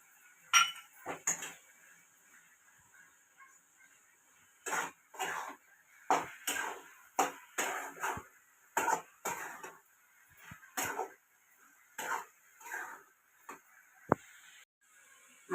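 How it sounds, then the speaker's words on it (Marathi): A thickening sweet of colostrum milk is stirred in a pan over a full flame, the spatula scraping and clinking against the metal in irregular bursts, with no talking. "गॅसची फ्लेम फुल ठेवून असे हलवत राहायचे आहे."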